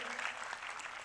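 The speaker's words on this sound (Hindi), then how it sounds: "हम उनका जोरदार तालियों से पुनः मैं अभिनंदन करने को कहूँगा।" Applause from an audience welcoming Shri Birla at a Ganga Aarti gathering in Rishikesh, a brief, faint, distant wash of clapping with no voices.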